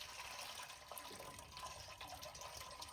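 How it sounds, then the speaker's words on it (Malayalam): Liquid fertilizer of blended leaves and rice water is strained for orchids, giving a steady close wash of pouring, trickling liquid with no speech over it. "അപ്പോൾ അതൊന്നും കൂടി അരിക്കുകയാണ്."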